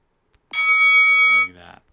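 A bell alert tone from an interval timer app set for sourdough baking rings once: a bright, sustained electronic chime lasting about a second, then a softer trailing tone, loud and alone.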